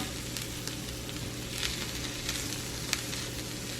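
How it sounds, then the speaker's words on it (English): Food sears in a hot pan coated with coconut oil, giving a soft, continuous sizzle and crackle with a few sharper pops, fairly quiet and close. "I'm just gonna put that on there and let that pan sear a bit."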